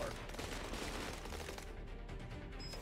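Gunfire rattles at enemy turrets in Cepheus Protocol, a quiet, dense fusillade of rapid shots blending into a continuous crackle, distant and low in level.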